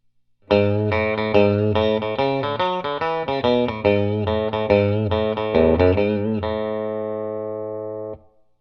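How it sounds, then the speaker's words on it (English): A Telecaster electric guitar plays a fast run of bright licks on the bridge pickup with a dry tone and no spring reverb, ending on a sustained ringing chord that cuts off abruptly. "This is going to be dry on the bridge pickup with no spring reverb for the first little bit here."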